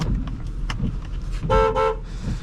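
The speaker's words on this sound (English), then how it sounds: "Nice and loud horn." A 2008 Chrysler Aspen with a 5.7L HEMI sounds its horn in two loud, close, steady blasts about half a second each, over faint cabin noise.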